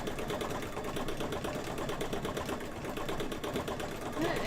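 A home sewing machine stitches fabric for in-the-hoop quilt blocks while running poorly and needing a cleaning, giving a steady, fast, close mechanical whir with a busy rhythmic clatter throughout.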